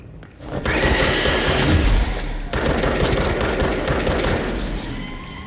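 Sustained rapid automatic gunfire in the video game Control, loud and dense, rattling continuously for several seconds with a brief break partway through.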